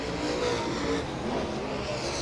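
Late model race cars at Raceway Park lapping the track in a steady, dense engine roar that holds loud and unbroken throughout, with no talk.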